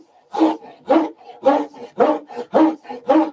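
A Japanese pull saw rip-cuts along the grain of a wooden board in seven even, rasping strokes, each a short loud scrape with quieter return passes between, close and clear with no talking.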